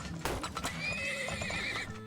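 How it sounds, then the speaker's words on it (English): A horse neighs and whinnies in the video game Turmoil, a loud, wavering call over a few clip-clop hoof sounds lasting about two seconds. "Oh, you bought a horse."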